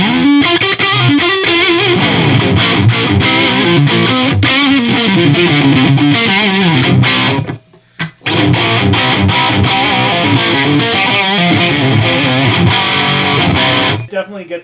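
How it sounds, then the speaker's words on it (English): Electric guitar played through a 1980s Peavey Butcher amplifier with its overdrive switched off, strumming loud, crunchy rock chords continuously with a brief break midway. "I'll go ahead and show you what it sounds like with the overdrive disengaged."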